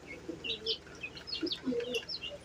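Native chicken chicks cheep in scattered high peeps near at hand, with a few lower clucks from larger birds mixed in.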